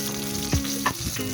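Garlic and onion fry in a pan, a close, bright sizzle with a few soft stirring knocks and scrapes over the short stretch, no speech.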